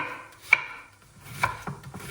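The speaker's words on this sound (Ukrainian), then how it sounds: "Нарізаємо цибульку" An onion is chopped with a knife for pea soup, giving a few sharp, close knife taps on the board that are spaced unevenly.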